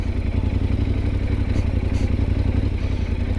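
A Yamaha Ténéré World Raid motorcycle rides off-road among vineyards, its engine a steady close rumble mixed with clattering and rattling over rough dirt, no speech.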